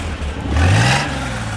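A 1975 Jeep DJ5 engine revs once through turn-down exhaust, a loud, close rise in pitch that peaks and falls back to a rough idle.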